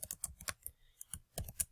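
Rapid keystrokes on a computer keyboard while entering a spreadsheet formula, a quick burst of clicks, a short pause, then another flurry of taps, close and fairly quiet.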